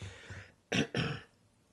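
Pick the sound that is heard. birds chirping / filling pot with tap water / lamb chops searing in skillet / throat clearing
throat clearing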